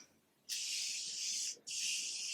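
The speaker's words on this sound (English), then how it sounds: "just spray half my face with Morphe Continuous Setting Spray" Two long, steady bursts of Morphe Continuous Setting Spray hissing close by, sprayed onto a face, the first about a second long, then a brief pause before a second burst.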